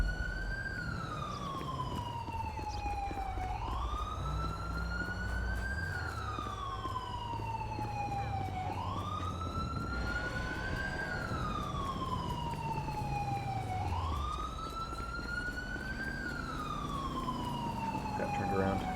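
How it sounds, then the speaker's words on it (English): Police sirens wail in a GTA V LSPDFR downtown patrol, a loud rising-and-falling electronic siren cycling repeatedly over a low vehicle engine rumble, close and continuous. "Follow the sirens."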